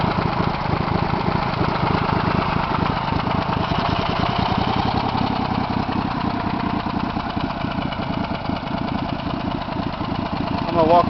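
A Mudbudd HD 6000 mud motor idles steadily and continuously at close range, with a rough, pulsing mechanical drone and no pauses.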